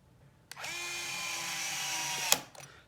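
A power tool set to torque level 8 spins for about two seconds to fasten a bolt on a compressor, a steady close whine ending in a sharp click.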